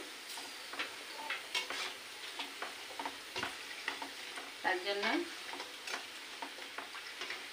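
Vegetable chips, including okra slices, frying in hot oil, giving a steady crackling sizzle broken by sharp pops and clicks, with a brief voice speaking near the middle.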